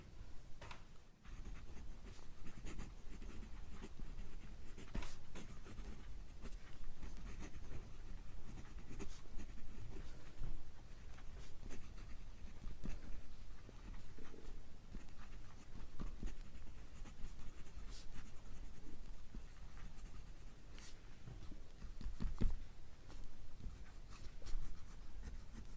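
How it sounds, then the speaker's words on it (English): A Pelikan Style fountain pen, lightweight with a steel nib, scratches steadily across paper in continuous soft strokes, close and quiet against faint room noise, with no talking. "Let me write something for you."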